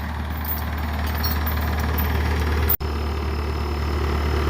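Skid loader engine idling near a creek culvert installation, a steady low rumbling drone with even mechanical pulsing, close and constant, broken only by a brief dropout near the end.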